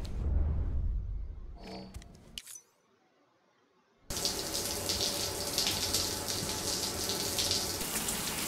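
Shower water running steadily in the video game Death Stranding, a loud continuous rushing spray that starts abruptly after a short quiet pause with faint clicks, then continues alone.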